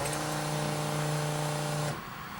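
Mazda RX7 rotary engine with MegaSquirt engine management running with a steady, buzzy drone that cuts off abruptly near the end, fairly loud and close with no talking.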